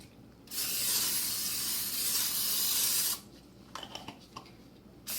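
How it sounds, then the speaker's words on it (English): A steady hiss of cooking spray into a pan lasts about three seconds, followed by a few light clicks and taps. "Go ahead and spray the bottom a little bit too, just so the caramel doesn't stick."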